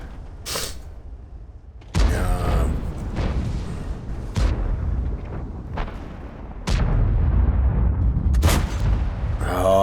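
Tank cannon shots in the World of Tanks video game on the Glacier map, several heavy booms with sharp attacks spread over the span, over a constant engine rumble, no talking.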